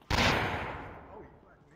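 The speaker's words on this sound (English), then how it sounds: "Flashbang." A flashbang grenade goes off in the VR shooter Onward, a single sharp, loud blast near the listener whose ringing tail fades away over about a second and a half.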